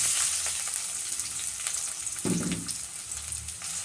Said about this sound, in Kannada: ಎಣ್ಣೆ ಕಾಯ್ದಿದೆ ಎರಡು ಮೆಣಸಿನ್ಕಾಯಿ ಒಂದು ಈರುಳ್ಳಿ ಹಾಕ್ತಾಯಿದ್ದೀನಿ